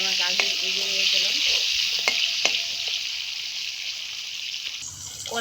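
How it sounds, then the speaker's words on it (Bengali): Plantain and carrot fry in oil in a pan in a rooftop kitchen, a bright continuous sizzle with occasional clinks and stirring knocks, fairly close and unaccompanied by talk. "কলাটা আর গাজরটা লাল লাল করে ভাজা হয়েছে, এবার তুলে নিচ্ছি।"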